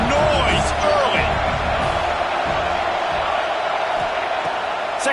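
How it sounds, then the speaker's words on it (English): Stadium crowd in a college football video game (Iowa vs USC), a continuous roar of noise with scattered whoops beneath play-by-play commentary. "This crowd bringing the energy and noise early."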